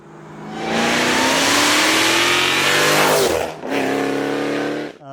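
A Dodge Hellcat's supercharged HEMI V8, fitted with an MPI supercharger lid, accelerates hard. It gives a loud, sustained roar with a rising supercharger whine, dips briefly near the end, then surges again.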